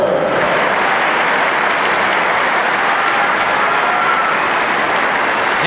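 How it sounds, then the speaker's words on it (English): A large crowd gives sustained, dense applause for the Scholar Athlete Award class of 1994 at a high school Class B final between East Grand Rapids and St. Clair Shores Lake Shore. The steady, loud clapping fills the whole stretch with no break. "How about a big round of applause for the Scholar Athlete Award Class of"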